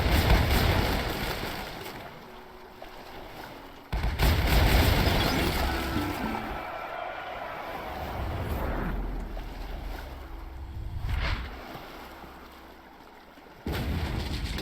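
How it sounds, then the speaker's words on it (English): Cannon fire and explosions boom through a naval battle between sailing warships in the Sailing Era video game. Heavy blasts hit near the start and end over a constant roar of battle and water, with no voices. "Along with a loud explosion, the keel of the Eagle of Lubbock, the strongest warship of the Oceanic League, snaps"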